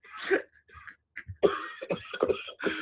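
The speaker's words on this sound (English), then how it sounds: "The other people coughing." Several harsh, bursty coughs from a few people in quick succession inside a smoke-filled car, close by, with short gaps and some muffled voices mixed in.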